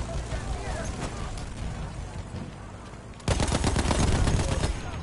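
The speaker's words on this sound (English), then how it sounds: "I think I saw a guy shooting" Gunfire in the video game Battlefield 1 on PS4, with a tank nearby: a steady crackle of distant shots under talk, then a louder, denser burst of rapid automatic fire in the last two seconds.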